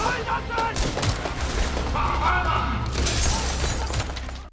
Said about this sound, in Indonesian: Tapi polisi tiba-tiba datang dan terjadi baku tembak antara mereka.